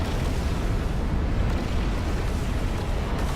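A capital ship blowing up in the real-time strategy game Ashes of the Singularity, heard as a dense, sustained low rumbling blast that stays loud and even across the whole moment, with no talk over it.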